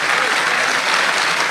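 Dense, loud applause from the audience at a mushaira poetry gathering, continuous and close throughout with no breaks.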